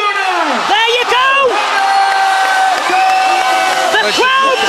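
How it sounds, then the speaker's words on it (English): A loud crowd roars and whoops at a FGHT.CLUB fight event right after a winner is declared, with rising shouts and cheers swelling throughout, steady and close. "The crowd go wild here and it's showtime!"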